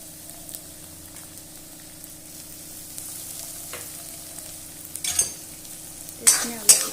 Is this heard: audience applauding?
no